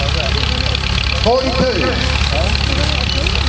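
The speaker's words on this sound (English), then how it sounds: "1942 international tractor." A 1942 International tractor engine idles steadily at a vehicle rally, a loud, even low rumble that carries throughout while someone speaks over it.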